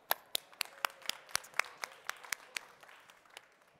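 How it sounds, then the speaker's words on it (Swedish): Scattered, evenly spaced hand claps from a small audience at a panel talk during the Elmia Subcontractor 2023 trade fair, about fifteen crisp claps in a few seconds with no talking over them. "En applåd där med"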